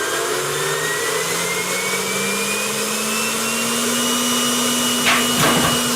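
A Heimerdinger LB 112 cordless leaf blower runs on a tabletop, its electric motor whining steadily and slowly rising in pitch, close and constant, with a brief rustle near the end.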